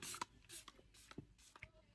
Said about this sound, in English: I'm just gonna go back in with my Dalba spray